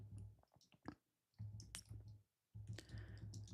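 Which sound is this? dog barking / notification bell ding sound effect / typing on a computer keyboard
typing on a computer keyboard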